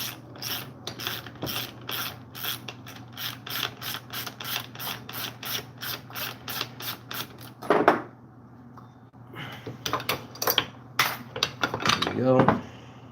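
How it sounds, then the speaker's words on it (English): Removing a long bolt from a chainsaw with a ratchet, which makes rapid, regular metallic clicks for several seconds, pauses, then resumes in a clicking run with some tool clatter. "Let's take the long bolt out."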